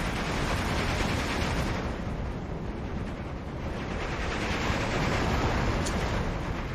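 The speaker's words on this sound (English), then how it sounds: "Sherman is popping out. He's gonna fire first." Heavy, rumbling battlefield din as a Sherman tank fires on a StuG in the World War II strategy game Steel Division 2, a dense continuous roar of explosions and gunfire with no clear separate shots.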